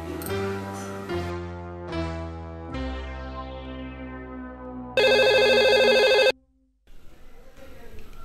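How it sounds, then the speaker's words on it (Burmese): A telephone ringtone plays a melodic descending sequence of tones, loud and close, followed by a harsh buzzing burst before it cuts off into quiet background noise. "တပည့်ဖုန်းလာနေတယ်ဟဲ့"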